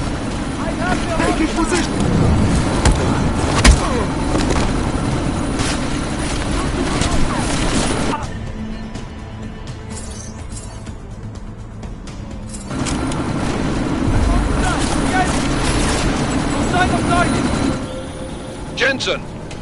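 A helicopter in the video game Deus Ex: Mankind Divided, a steady loud rotor and engine drone that dips briefly then returns, heard under gunfire and clatter with voices speaking over it.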